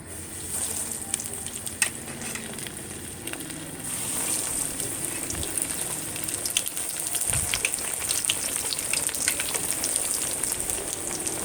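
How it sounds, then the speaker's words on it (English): Breaded eggplant slices deep frying in hot oil give a steady bright sizzle and crackle that runs throughout, fairly close and even, with small bubbling pops. "when it gets hot, you'll start seeing some little sizzling"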